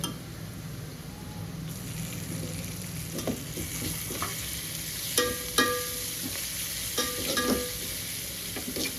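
Onions frying in a pan for kanda poha, with turmeric and coriander added, a constant close sizzle broken by spoon scrapes and taps against the pan as everything is stirred together.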